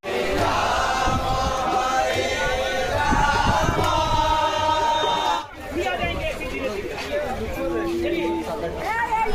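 A heavy crowd mills outside Puri railway station, a dense, continuous babble of many voices with shouts rising above the hubbub throughout.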